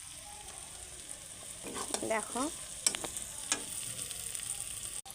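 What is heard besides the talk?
onion and tomato frying together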